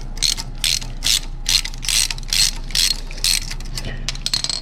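Ratchet socket wrench loosening a V-band clamp on the turbo of a broken Subaru STI, with about ten rhythmic bursts of clicking close by, each a short run of fast pawl ticks, and a quiet pause between bursts.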